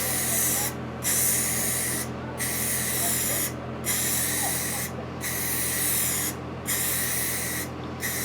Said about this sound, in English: Let me take off this primer. Reloading spray cans, way easier.